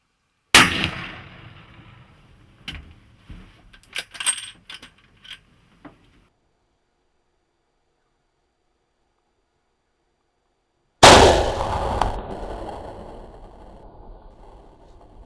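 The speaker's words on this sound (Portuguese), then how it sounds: "O disparo foi perfeitamente colocado" A hunting rifle fires during a wild boar hunt in Argentina: two loud, sharp shots, the first followed by scattered clicks and rustling, then silence before the second blast rings out with a decaying echo.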